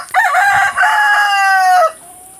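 A farm rooster crows once, loud and close, in a rising then sustained call lasting under two seconds with a brief break midway.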